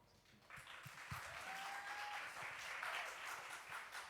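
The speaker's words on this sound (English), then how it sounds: "Let's give her a round of applause." Audience applause at a live presentation, starting around half a second in and swelling into steady, dense clapping that continues to the end, fairly faint.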